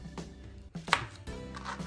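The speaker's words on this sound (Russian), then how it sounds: "Далее берем наши кабачки и нарезаем их" A knife chops zucchini into rounds about one and a half centimetres thick on a board in a home kitchen: a few crisp, close cuts spaced irregularly, with quiet background between them.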